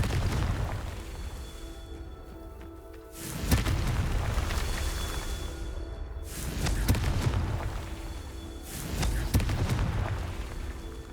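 Three heavy Confringo blasting-spell explosions in Hogwarts Legacy, each a loud deep boom with a rumbling tail, spaced a few seconds apart over game ambience and faint footsteps, with no voice.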